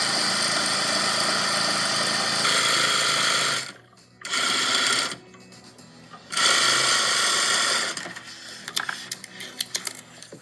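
A sewing machine stitches quilt strips at about 15 stitches per inch, its loud, close motor humming in long steady runs broken by two brief stops, then trailing into quieter clicks and handling noise.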